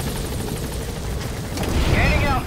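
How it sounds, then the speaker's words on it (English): A helicopter in Metal Gear Solid V thrums with a continuous rotor wash and engine rumble, fairly close and steady, swelling slightly toward the end with a rising whine. "Let's go ahead and get on the chopper and leave the mission area."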